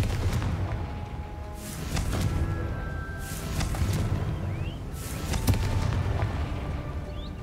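Confringo fire spell blasts in Hogwarts Legacy on PS5 go off as several heavy booming explosions with rumbling low-end, spaced a second or two apart over continuous game ambience.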